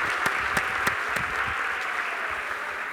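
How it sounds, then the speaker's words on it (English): Sustained audience applause at a talk, dense and steady clapping filling the room with a few sharper claps standing out, no voices over it. "So, another round of applause."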